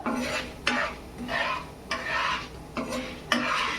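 Raw chana dal being stirred and dry-roasted in a pan, rhythmic scraping sweeps of a spatula with the lentils rustling and rattling, each stroke starting with a sharp knock against the pan, close and repeated about every second.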